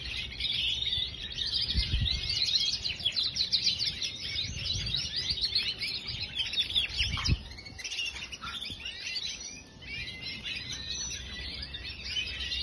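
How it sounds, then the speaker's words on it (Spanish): Caged songbirds bathing and coming out of molt chirp and sing continuously in dense, high, overlapping twitters, with occasional low thumps and splashes nearby. "Que están repitiendo y haciendo sus notitas."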